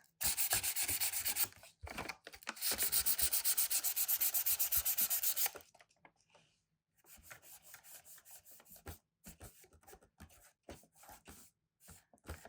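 Close, steady rasping of sandpaper rubbed back and forth over paper edges in quick strokes, pausing briefly, then resuming in shorter, lighter bursts.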